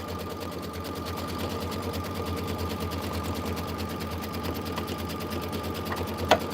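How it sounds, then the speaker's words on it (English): Sewing machine stitching through quilt fabric with batting underneath, a steady rapid mechanical chatter at close range running continuously, ending with a small click, and no talk. "And now I'm just going to stitch."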